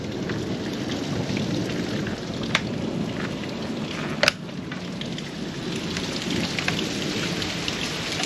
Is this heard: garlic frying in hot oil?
no